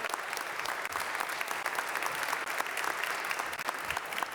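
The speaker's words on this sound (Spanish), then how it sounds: "Un fuerte aplauso aquí a maestras y maestros por la paz." Strong audience applause honoring teachers at a culture of peace forum, sustained dense clapping from a crowd, loud and continuous without talk.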